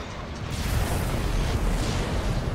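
Nukes go off in a StarCraft match, producing a broad, roaring rumble that swells after a brief lead-in and stays loud and sustained, with no voices.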